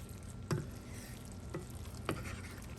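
Ackee and saltfish are folded gently in a pan with a low, steady frying sizzle, and three soft utensil scrapes or taps punctuate it up close.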